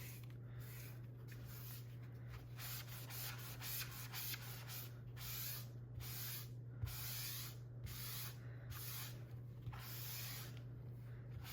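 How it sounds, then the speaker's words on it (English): Steady scrubbing of a magic eraser pressed hard against a wall calendar to wipe off writing, a continuous rasping rub with rhythmic strokes close by, alone and without talk. "Magic erasers, they work really well for these."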